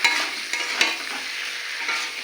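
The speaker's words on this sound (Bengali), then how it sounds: "এবার দিয়ে দেবো আলু, সিদ্ধ করা আলু। ভালো করে আলুটাকে নেড়ে ছেড়ে কষে নেবো।" Boiled potatoes are stirred and fried in hot spiced oil, giving a close, steady sizzle with soft scraping strokes of a spatula in the pan, and no voices.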